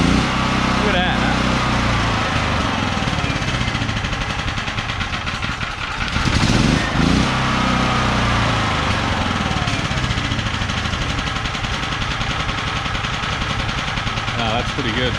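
An ETQ portable generator, unused for over ten years, runs with auto throttle: a loud, continuous buzzing engine drone heard close by, holding steady throughout with a brief dip and rise near the middle.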